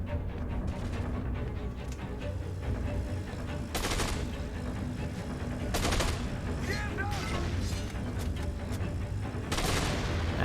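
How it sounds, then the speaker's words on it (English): Explosions and heavy gunfire in Dead Rising 2, with loud booming bursts and sharp blasts rising over continuous rattling shots, while a voice talks intermittently. "What was exploding?"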